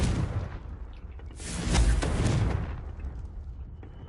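Confringo spell explosion in the video game Hogwarts Legacy, a single broad booming blast swelling up and then fading into a rumbling tail, moderately loud, with no talk over it.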